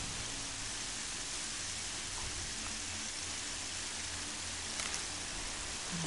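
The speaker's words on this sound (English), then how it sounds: "It's raining. I don't like the rain." Steady rain falls in the video game Horizon Zero Dawn, a constant even hiss of downpour throughout with a faint low rumble and no voices.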